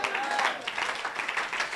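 Congregation clapping during a church service, a dense rapid patter of many hands sustained without a break, fairly close and lively.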